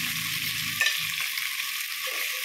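Chopped onions sizzle and fry in hot oil for a desi chicken curry while a spoon stirs them, with a continuous loud hiss and scraping strokes against the pan at close range.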